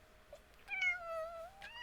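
A cat gives a single drawn-out meow, faint and a little distant, followed by a brief higher call at the end.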